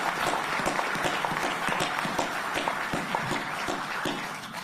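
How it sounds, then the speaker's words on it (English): A room full of people claps in a sustained round of applause at a press conference welcoming Aaron Rodgers to the New York Jets, the dense clapping steady and fairly loud throughout, with no speech over it. "I'd just like to have a round of applause right there."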